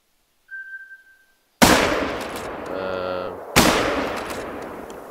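A single loud rifle shot in the hunting game The Hunter: Call of the Wild rings out close and sharp, its echo rolling away. A second crack follows a couple of seconds later, with a faint whistle-like tone before the first.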